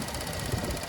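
A 3.6 liter V6 in a 2014 Buick Lacrosse Premium II idles steadily with the hood open, giving a close, even hum that carries a faint rhythmic ticking.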